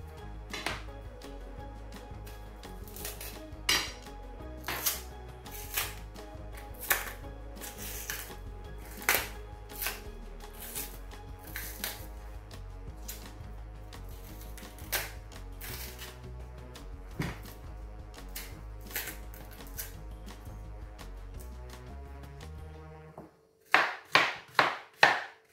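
A knife cuts through firm unripe plantain on a board, striking in a steady run of crisp, fairly close chops over a low constant hum, ending in a few sharper, louder knocks.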